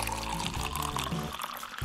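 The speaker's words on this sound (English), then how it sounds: "Pour Sprite into an empty Coca Cola bottle." Sprite poured into an empty Coca Cola bottle: a short, full gush of fizzing liquid filling the bottle up close, fading slightly at the end.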